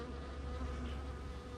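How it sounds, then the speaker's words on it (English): Dense, steady buzzing of many honey bees crowding a heavy hive frame during a spring hive inspection, a close continuous drone with no talk over it. "One last frame, lots of bees on it."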